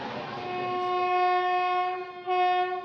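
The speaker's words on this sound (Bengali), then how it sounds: "আর দেখো আমাদের ট্রেন চলে আসছে একদম WAG।" A train with a WAG locomotive pulling into Patna station sounds a long, steady horn blast, close and loud, that briefly dips and swells again near the end.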